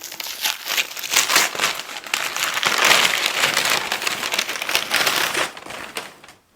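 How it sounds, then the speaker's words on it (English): Wrapped picture frames being unwrapped for an entryway gallery wall, giving a continuous loud crinkling and crumpling of packaging that rustles steadily for several seconds before stopping, with no talk. "So I'm just gonna unwrap them and then I'll show you individually."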